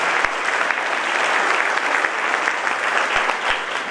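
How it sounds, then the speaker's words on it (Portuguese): Loud, close applause fills a church convention hall, a continuous crowd clapping with a few heavier thuds scattered through it and no voices on top. "vamos aplaudir o Senhor"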